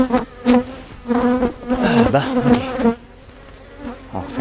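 Honey bees swarm around beehive colonies during a hive inspection, making a loud, close, dense buzzing that rises and falls as the bees fly past.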